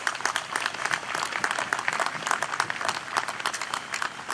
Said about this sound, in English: a round of applause for our veterans